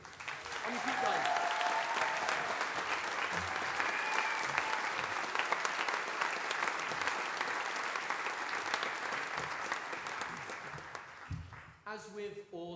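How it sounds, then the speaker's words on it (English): Sustained audience applause with cheering for the National Youth Brass Band of Scotland, filling most of the stretch evenly; it tapers near the end as a voice begins speaking. "So can we give them another round of applause, please?"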